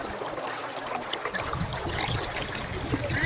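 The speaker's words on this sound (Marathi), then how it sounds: "काय ते पाणी आणि ते पाण्याचा आवाज." Water spills across a road near Kanulibaara Dam on Degama Road outside Nagpur, a continuous rushing, trickling flow heard at moderate distance as a steady wash of sound.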